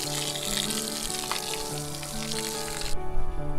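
An elephant at a sanctuary splashing water over itself while bathing, a steady hissing spray of water with sloshing and some louder splashes near the end.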